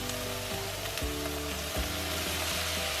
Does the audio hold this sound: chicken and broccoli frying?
yes